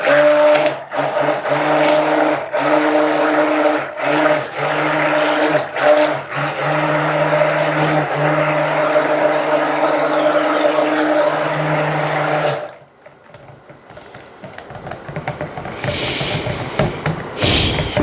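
A blender whirs loudly and steadily, mixing lavender soap oils with lye water for cold-process soap, motor pulsing in short bursts and a long run before cutting off, leaving quieter handling noises.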